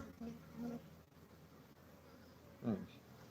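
Honey bees hum steadily inside an open beehive at a mentor's apiary while the comb is being worked, a continuous close buzz with a louder swell near the end.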